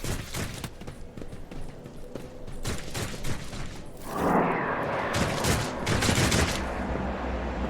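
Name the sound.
gunfire in the video game Warhammer 40k Rogue Trader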